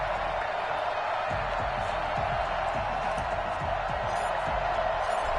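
Steady, dense stadium crowd roar from an EA Sports NFL game as the New York Jets and Tennessee Titans line up, a continuous wash of cheering noise with faint thumps underneath, no speech.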